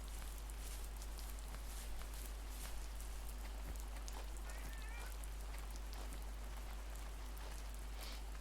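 Steady rain patters and hisses evenly across the whole stretch in the game The First Tree, with scattered soft drops close by and no one speaking.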